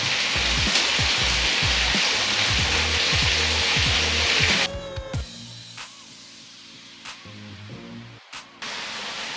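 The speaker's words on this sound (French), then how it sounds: "Maintenant on va tailler les oignons." Onions sliced with a knife on a board while making stuffed courgettes with vegetables, cheese and eggs: a run of quick, rhythmic chopping taps close by, then sparser, softer cuts and scraping.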